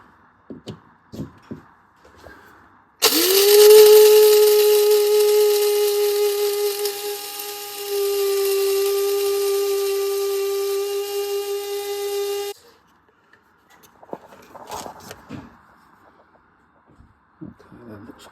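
Electric grinder grinding coffee beans in a home kitchen: a loud, steady motor whine runs for about nine seconds and dips in pitch midway, with light clicks and handling noises before and after.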